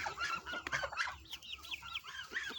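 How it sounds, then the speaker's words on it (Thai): Young Betong chickens on a Thai farm clucking and chattering, a busy string of short close calls with bright bird chirps mixed in. "แล้วก็จะมีพวกไก่วัยรุ่น"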